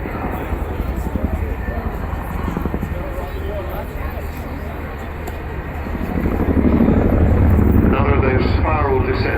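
A helicopter flies a display at the 2015 Cosford Air Show: a steady, loud rotor and engine drone that swells louder toward the end, with a voice commentating over it.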